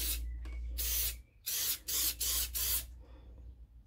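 An aerosol can of silicone spray hisses onto egg cartons in several bursts, a long spray followed by shorter ones, close and loud with brief pauses between.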